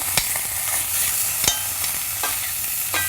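Lamb hock searing in a hot pan, a steady loud sizzle broken by sharp scrapes and knocks as the meat is turned and stirred, with no voices.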